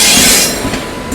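Gurumukhi Superfast Express 12326 hauled by a WFE7 locomotive from the Howrah loco shed, arriving at a station near Jasidih: a loud, close rush of rolling railcars with squealing wheels and metallic rattles.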